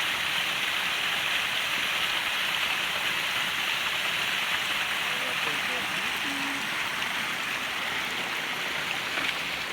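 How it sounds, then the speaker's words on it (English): A small hidden waterfall and stream beside a hiking trail in the Smokies give off a steady, broad rushing wash of water that stays even and close throughout. "Just came across this gorgeous little hidden away waterfall and stream off the side of the trail"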